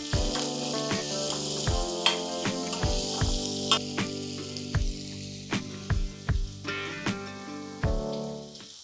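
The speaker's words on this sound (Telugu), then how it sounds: "ఈ కత్తిరించి కోసి పెట్టుకున్న ఉల్లిపాయ ముక్కలు వేసేద్దాం" Chopped onions fry in hot oil with green chillies and curry leaves for a mixed vegetable curry, a close, steady sizzle broken by frequent sharp clatters and stirring knocks of a utensil against the pan.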